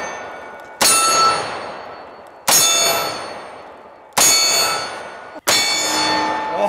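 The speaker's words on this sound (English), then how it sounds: "let's finish up today's video with some one-handed shooting with each one of my favorite 500 Magnums on our steel target" Four .500 Magnum revolver rounds strike a steel target outdoors, each a sharp, loud metallic clang that rings out and slowly fades before the next hit, spaced roughly evenly a second and a half apart.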